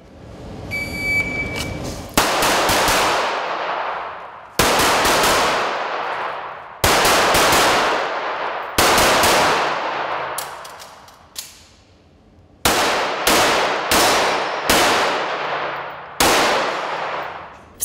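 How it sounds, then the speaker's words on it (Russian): Pistols and carbines fire during a practical shooting competition in Sochi, with loud, close, sharp reports in irregular bursts of single and rapid shots, each trailing into an echoing decay outdoors. "В соревнованиях по практической стрельбе в Сочи использовали 2 вида оружия – пистолет и карабин."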